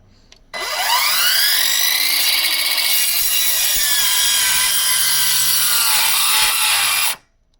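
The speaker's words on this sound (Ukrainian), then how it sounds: "Ускладнюємо для неї задачу дуб напівсухий. Давай, пробуй, як вона вріже." Ronix cordless circular saw slices into semi-dry oak. The blade whines up and bites with one loud, continuous rasping cut of about six and a half seconds, then stops abruptly.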